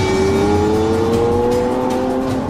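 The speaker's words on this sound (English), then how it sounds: "Every car is given its own test drive around the local area." A Lamborghini Aventador drives its road test, the engine note rising in a steady climb as it accelerates, loud and close for the whole stretch with no voices.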